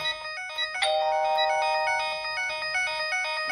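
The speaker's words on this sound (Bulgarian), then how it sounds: "PushOver настоява да му бъде обърнато внимание, защото съобщението, което получава, е с приоритет." A tinkling electronic priority alert melody from the Pushover phone app, linked to a Puma WiFi alarm system, plays continuously, bright and repetitive like a phone ringtone, with no voices.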